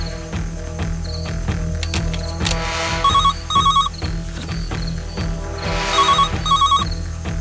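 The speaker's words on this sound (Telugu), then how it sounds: "ఫోన్ ఎత్తవయ్యా." A telephone rings in repeated electronic trill bursts, loud and close, layered over background music with a steady rhythmic pulse.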